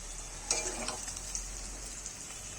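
Meat sizzling steadily in a frying pan while being stirred, a constant hiss with a few louder scraping strokes of the spoon near the start, close to the pan.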